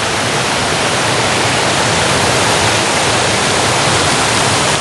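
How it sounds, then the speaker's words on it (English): The lower section of a long three-tier waterfall at Dabanggre village in West Garo Hills, Meghalaya, roars as dense, loud, unbroken rushing water close by. "this is the lower part of this waterfall, and it is quite a long waterfall here"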